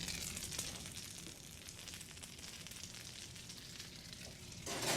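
A sandwich sizzles steadily under a hot broiler, a dense continuous crackle and hiss, fairly faint and unbroken, with no talk.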